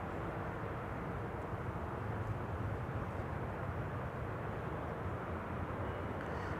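An Airbus A320neo arriving from Malta at Schiphol produces a steady, fairly distant jet roar that holds even and unbroken throughout.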